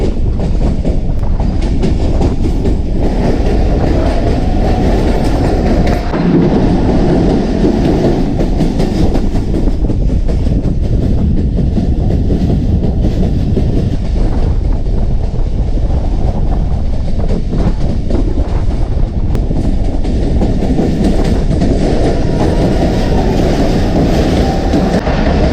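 A train runs steadily on rails after leaving a railway station headed toward a tunnel, a continuous loud rumble with rattling carriage noise and wind buffeting throughout, no voices.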